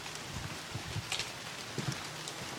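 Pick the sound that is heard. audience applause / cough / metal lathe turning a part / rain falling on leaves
rain falling on leaves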